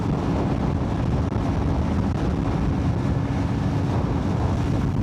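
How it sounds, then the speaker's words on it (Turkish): Steady, roaring wind buffeting the microphone, a constant low rumble with no voices. "Hava da rüzgarlı."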